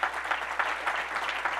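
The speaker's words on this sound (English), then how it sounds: "I'd really love for you guys to give them a round of applause" Brief, steady audience applause at a State of the City event in Rockwall, Texas, honouring city council members, many hands clapping densely at moderate loudness.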